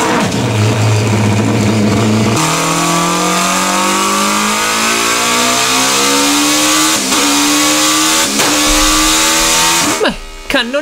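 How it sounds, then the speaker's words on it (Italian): A Toyota MR2 fitted with a Hayabusa 1300 motorcycle engine revs hard, high-pitched, pitch climbing steadily through the gears with brief shift breaks, loud and close. "MR2 col motore dell'Hayabusa"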